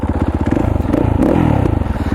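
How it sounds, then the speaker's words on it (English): An off-road motorcycle engine with freshly repacked exhaust idles close by with a rapid, throaty pulsing rumble, briefly rising in pitch as the throttle is blipped. "Got some new packing in my exhaust."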